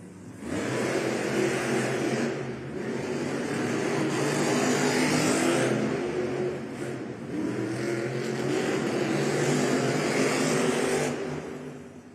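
Monster Jam trucks roar through a race in an indoor arena, engines revving loud and sustained with surging peaks and brief dips over about twelve seconds, crowd-filled space echoing around them.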